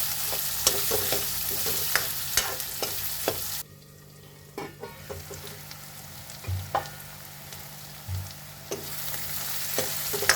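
Soya chunks frying with tomatoes and green chillies in a pan, a loud sizzle with frequent scraping stirs that drops briefly quiet midway before resuming, near and without voices.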